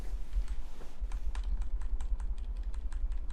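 Rapid clicking of computer keyboard keys as someone types in bursts during a League of Legends match, close and clear, with steady low game noise underneath and no talking.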